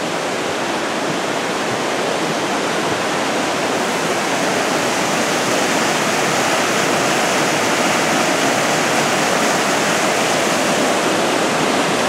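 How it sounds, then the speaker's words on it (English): Creek flowing beneath a bridge on a hiking trail to Annette Lake, a loud, dense, unbroken rush of water with no talking over it. "We can't remember the name of this creek that flows here under the bridge."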